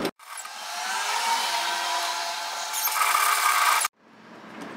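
A sewing machine stitches fabric in one long, steady whirring run with a slight rise near the end, then cuts off abruptly, leaving quieter room noise.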